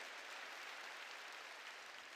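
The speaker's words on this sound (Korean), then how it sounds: "박수로 하나님께 영광 돌려야죠" A church congregation claps together during a sermon, a dense, even wash of applause holding steady at moderate volume from start to finish, with no voices over it.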